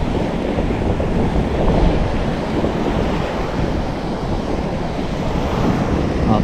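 Ocean waves wash against a rocky shore in a continuous loud roar, with wind buffeting the microphone and no voices.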